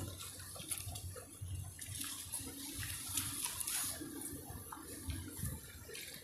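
Rainwater rushes and splashes steadily through the streets in Saudi Arabia at a moderate distance, a continuous turbulent flow with no voices.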